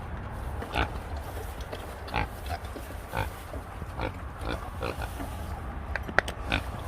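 A mini pig oinks and grunts in a series of short, moderately loud snorts at uneven intervals over a low background hum.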